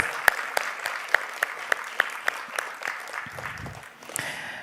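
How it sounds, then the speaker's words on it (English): Sparse applause from a small audience at a panel discussion, with a handful of sharp, distinct claps spaced out over a soft backdrop and dwindling toward the end. "Let's give them a big round of applause."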